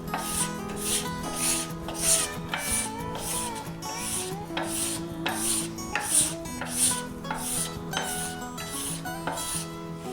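Card scraper drawn across the wood grain in quick, rhythmic rasping strokes, about a dozen bright scrapes close up over a steady tonal background.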